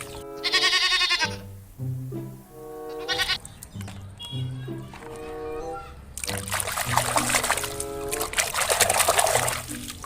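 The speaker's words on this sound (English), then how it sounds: "wow, white sheep, beautiful look white sheep." Sheep bleating in a run of loud, wavering, drawn-out cries, one after another, over a backdrop of trickling water and some hissy noise toward the end.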